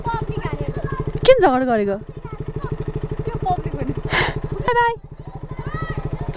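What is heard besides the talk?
motorcycle engine with an unpleasant sound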